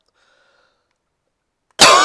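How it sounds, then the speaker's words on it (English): A single abrupt, loud throat clearing close to the microphone breaks near silence at the very end, short and harsh like a cough. "Let me clear my throat for this"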